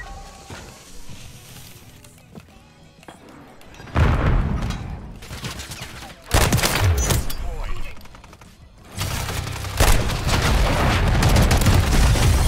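Shotgun blasts in a first-person shooter game, several loud booming shots in separate bursts with quieter gaps between, a voice talking in the background.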